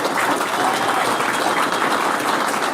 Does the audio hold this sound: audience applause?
yes